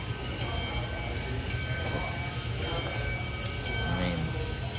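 Sugar Express train playing from a video, a continuous rumbling rail roar with wheel noise and a faint whistle-like tone, while a person talks over it.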